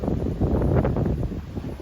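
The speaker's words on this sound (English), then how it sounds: "Super windy." Wind buffets the microphone in low, rumbling gusts that swell and fade, with no voices.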